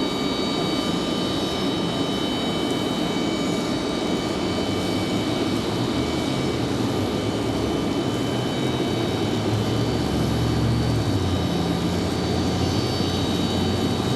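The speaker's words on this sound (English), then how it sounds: "American Airlines 2371 coming in from Dallas Fort Worth, 737-800" American Airlines Boeing 737-800 flight 2371 from Dallas Fort Worth lands at Raleigh-Durham International, a continuous jet rumble that swells slightly in the low end toward the end, heard alone without voices.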